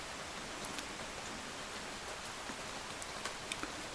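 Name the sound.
rain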